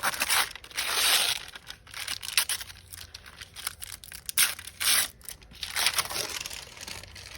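Glittery silver and gold postcard paper ephemera is crinkled by hand, making close, rustling crackles that swell and fade in bursts over several seconds, with no speech.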